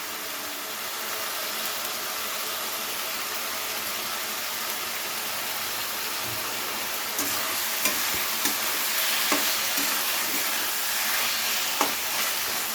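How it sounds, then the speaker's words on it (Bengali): Tomatoes and spices sautéing in a pan for a Katla fish curry, an even continuous sizzle close up, with a few light stirring clicks toward the end. "এবারে খুব ভালো করে টমেটো গলা অবধি কষিয়ে নিতে হবে"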